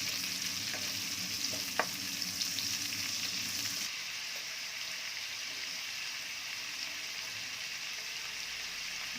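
Garlic and onion sizzle steadily in a hot pan for pancit habhab, a loud continuous hiss with a few utensil clinks early on, then a slightly softer even fry.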